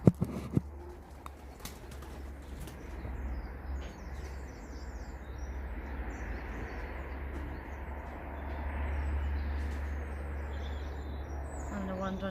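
Young pigeons coo softly in the background in an aviary over a constant low hum, with a few sharp knocks near the start.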